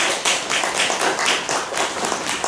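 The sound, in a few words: congregation clapping in welcome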